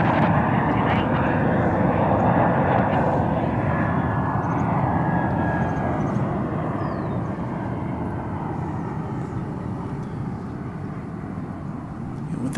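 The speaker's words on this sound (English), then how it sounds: "This is the Volaris flight from Mexico City, flight 4800." A Volaris Airbus A321neo from Mexico City at DFW Airport gives a loud, steady jet engine roar that slowly fades as it passes, with someone talking over it at sunset.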